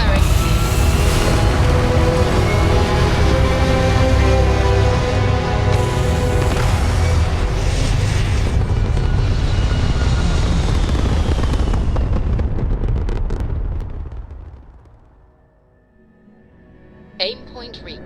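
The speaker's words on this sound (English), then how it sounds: "All the thrust is firing." Spaceship thrusters fire in the game Starfield with a loud, continuous broadband roar that holds steady for about thirteen seconds, then fades away. Faint electronic tones follow near the end.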